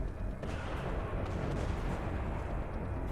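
Sustained gunfire and explosive bursts from the video game Mass Effect 2, a dense, continuous barrage of shots that stays loud throughout with no talking.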